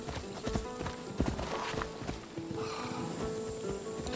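Horse hooves clip-clopping in the video game Assassin's Creed Odyssey, a steady run of close, crisp hoofbeats over a soft ambient game backdrop, with no talk.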